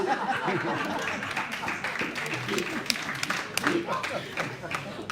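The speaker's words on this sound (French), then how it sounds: "Bravo. Applaudissez." Audience applause at a church service, a dense, sustained round of clapping from a sizable crowd, with some chuckling and chatter mixed in.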